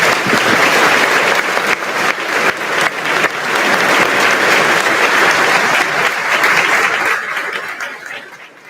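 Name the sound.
audience applause at school recognition ceremony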